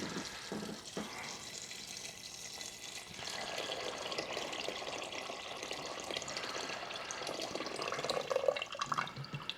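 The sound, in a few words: filling a pot with water from tap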